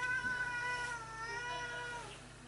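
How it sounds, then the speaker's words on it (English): A house cat meows indoors, a faint, drawn-out vocal call repeating over a couple of seconds against a low steady background hum. "My cat has entered the room."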